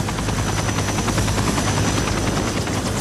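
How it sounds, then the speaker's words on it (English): A rescue helicopter on a mountain glacier rescue drones loudly and up close, its rotor chop pulsing rapidly and continuously over a heavy turbine roar with no voices. "We loaded him onto the helicopter"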